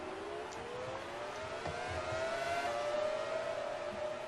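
Race cars blast through Suzuka's fast 130R corner during a Japanese Grand Prix overtake, a loud rising engine whine with a smooth upward pitch sweep as the cars pass close, with no voices.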